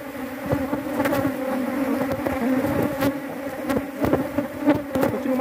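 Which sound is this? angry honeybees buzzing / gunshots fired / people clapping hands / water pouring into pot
angry honeybees buzzing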